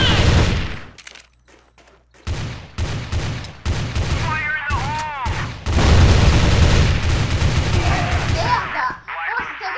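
AK-74 and M4A1 rifles fire in the online shooter Crossfire. Bursts of gunfire come in uneven clusters with short pauses between them, mixed with game sound effects and talk.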